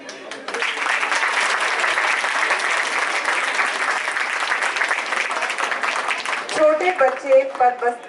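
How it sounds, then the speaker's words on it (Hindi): Audience applause at a school Balvatika annual day function, a dense, steady wash of clapping that holds at full strength and then thins into scattered claps as music starts underneath. "जोरदार तालियां हो जाए हमारे बाल वाटिका वन के नन्हे कलाकारों के लिए"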